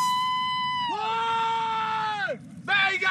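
People in a drama scene let out a loud, drawn-out cry of happiness. It breaks briefly, then a second sharp burst of joyful shouting follows.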